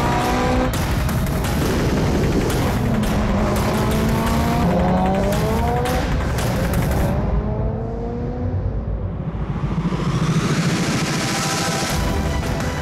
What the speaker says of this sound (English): He's let me drive his Evolution 4. So we're not doing any launches. We do a rolling start and save his clutch.